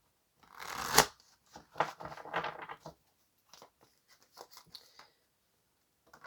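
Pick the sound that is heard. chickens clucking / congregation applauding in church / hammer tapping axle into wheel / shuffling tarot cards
shuffling tarot cards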